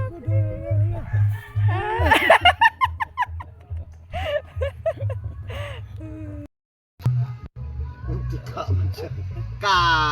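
Chickens cluck and squawk in bursts close by, mixed with a rooster-like cry, while people talk and laugh over a steady low hum.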